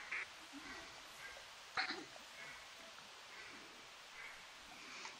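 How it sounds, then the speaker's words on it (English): Faint, distant duck quacks come and go over a steady background hiss during a duck hunt, with one brief sharper call partway through. "Got a lot of ducks laying out there."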